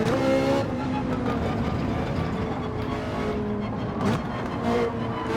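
Ferrari 458 GT3 race car engine in Gran Turismo 7, a steady, close, sustained drone with a brief swell near the end, heard alone without talk.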